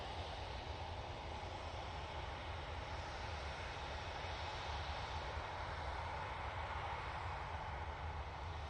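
A Ryanair airliner departs Manchester Airport bound for Seville, its steady jet engine roar sustained and fairly distant, a broad even rumble with no talk over it.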